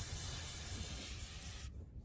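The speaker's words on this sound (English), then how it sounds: "or I'll spray it into a rag" Cleaner sprayed steadily into a rag while working on the rear differential cover gasket of an '04 Chevy Z71, a continuous close hiss lasting most of the moment before cutting off abruptly.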